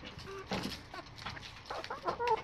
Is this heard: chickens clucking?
yes